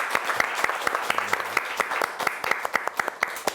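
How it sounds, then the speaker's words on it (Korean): An audience at a Catholic senior academy broadcast claps warmly, a steady wash of many hands with a few sharp, close claps punctuating it at a fairly regular rhythm, and a faint voice briefly underneath. "다시 한번 박수 쳐드리면서"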